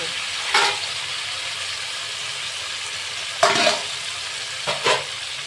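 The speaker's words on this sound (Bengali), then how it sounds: "এখানে আমি হাফ বাটি মতো জল দেবো দিয়ে গ্রেভিটাকে বানিয়ে নেব" Water poured into gravy cooking in a pan sets off a steady sizzle and hiss, broken by three short louder splashes or stirring surges.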